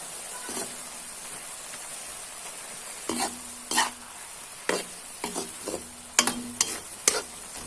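Red mustard greens cook in a pan, a soft steady sizzle under repeated sharp scrapes and clicks of a utensil stirring against the pan, the knocks grouped in irregular bursts toward the end.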